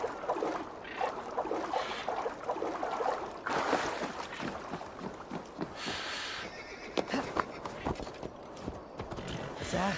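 An agitated horse in the Viking-era video game Assassin's Creed Valhalla neighs and whinnies amid clip-clopping hooves and rustling movement, with a few sharp knocks and a voice speaking briefly in the mix.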